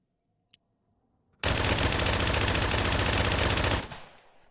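A Vector SMG fires one long uninterrupted full-auto spray of nearly two and a half seconds in the Exfilzone video game, loud and dense, ending in a fading echo after a single faint click.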